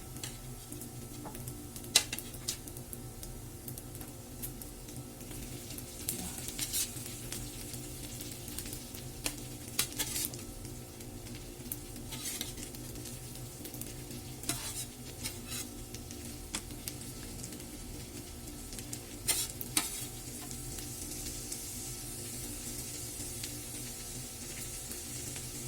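Vegetables and egg are stir-fried into crispy bihon noodles, giving a faint continuous sizzle with scattered soft ticks and scrapes of stirring, quiet and steady with no talk.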